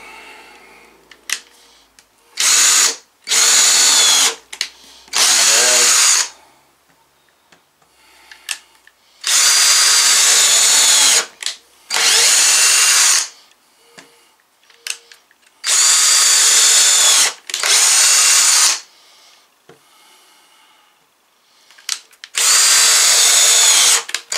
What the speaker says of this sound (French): Bon, on perce.